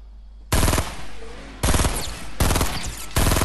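Fortnite video game gunfire plays as four loud bursts of rapid automatic shots, each about half a second or more, separated by brief pauses with quieter game ambience between.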